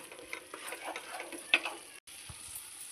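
A paste fries in hot oil in a pan for a paneer curry, with a close, steady sizzle and occasional stirring scrapes and clinks.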